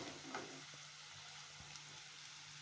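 Quiet, steady sizzle of turmeric and chili powder frying in hot oil for a dry fish fry, with a faint stir or two and no talking.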